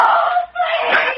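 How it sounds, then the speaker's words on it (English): A woman's scream in the night from an old-time radio drama, a single drawn-out wailing cry that breaks briefly and resumes, loud and close with no talk over it. "a scream in the night"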